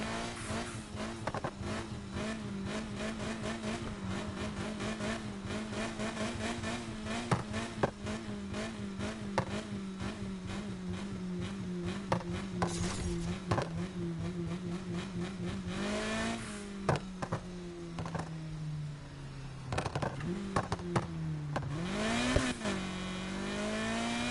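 A car races through a police chase in Need for Speed Heat, its engine revving and shifting constantly, with tire squeals and skids toward the end, loud and close.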